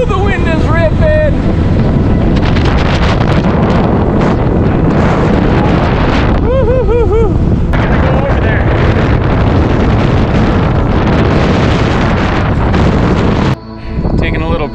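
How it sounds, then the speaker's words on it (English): Strong mountain wind on Mount Shasta roars and buffets the microphone in heavy, continuous gusts, with voices shouting briefly beneath the blustering noise. "the wind is ripping."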